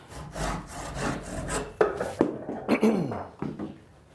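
A handsaw cuts through found wood for a cane, giving a rhythmic back-and-forth rasp of several close, uneven strokes with brief pauses between them.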